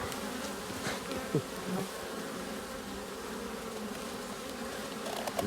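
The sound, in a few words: honeybees buzzing at hive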